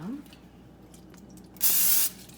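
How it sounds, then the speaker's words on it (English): A single short burst of Pam cooking spray hisses onto a pan, bright and close for about half a second, following a quiet stretch with faint clicks. "I'm gonna spray my pan"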